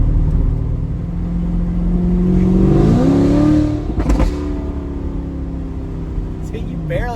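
A tuned C8 Corvette accelerates under light throttle, its engine note rising in pitch and then dropping sharply at a quick upshift before climbing again, loud and close over steady road rumble.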